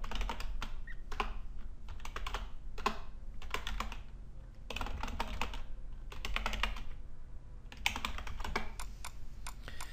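Fingers type on a computer keyboard to log in to an online account, quick clusters of key clicks coming in bursts with brief pauses between them, close and clear with no talking.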